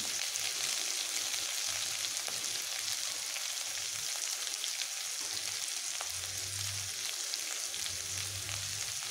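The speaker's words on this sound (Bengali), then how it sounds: "এবার আমি এখানে কেটে রাখা পেঁয়াজগুলোকে দিয়ে দিচ্ছি।" Chopped onions fry in hot oil in a pan with bitter gourd, giving a loud, steady sizzle that fills the whole stretch, close and continuous with no talking.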